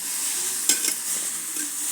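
Poha tossed by hand with oil, chili and turmeric powder, a soft dry scraping and rustling with a couple of brief louder scuffs, close and steady, no talk.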